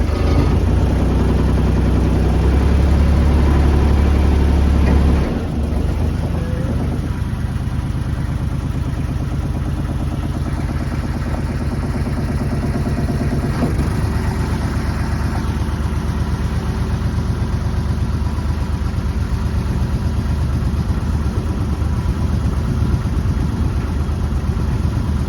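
A boat engine idles steadily while reversing, a low continuous rumble with a brief louder surge at the start before settling into an even, close drone with no talking.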